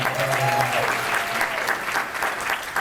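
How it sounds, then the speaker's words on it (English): Steady applause from an audience at a Plexus Worldwide corporate event in Clinton, Maryland, loud and continuous with a crowd's murmur and a few voices underneath. "Let's give Sheila, Patty, and Coach another big round of applause."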